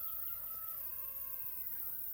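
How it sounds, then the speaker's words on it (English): Roosters on a homestead crowing in the distance, a faint drawn-out crow rising and falling over quiet outdoor background noise. "I don't know if you can hear the roosters crowing already."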